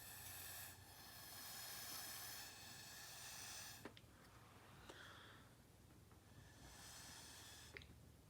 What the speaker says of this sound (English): you can do a really sharp breath, so really fast breath out